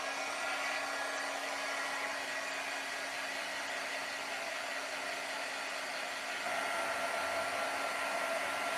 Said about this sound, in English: I'm going to go ahead and use my heat tool